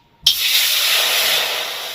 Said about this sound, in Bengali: প্রথমে একটা কড়াই বসিয়ে দিচ্ছি এর মধ্যে জল দিয়ে দিচ্ছি